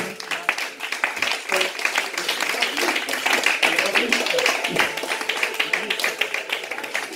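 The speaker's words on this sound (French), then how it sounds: "on peut l'applaudir parce qu'il a réussi à partager l'évangile à la fin" A church congregation claps during an evangelism sermon, a fairly loud and steady patter of hands with some sharper taps, continuing for several seconds.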